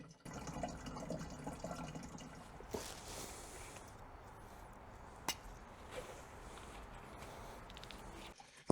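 Old fuel draining from a Buddy 50 scooter, a steady trickling liquid flow with a faint hollow ring, continuous and close, one sharp tap midway and no talk.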